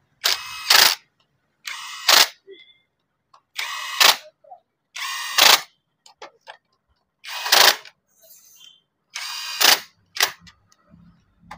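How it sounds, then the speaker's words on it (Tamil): Bolts on a motorcycle clutch cover are tightened after a slipper clutch is fitted to an NS 200 or Duke 200, giving close, sharp paired bursts of ratcheting or driving noise repeated about every two seconds, with quiet gaps between and no talk. "நல்லா போல் டைட் பண்ணி முடிச்சிட்டோம்"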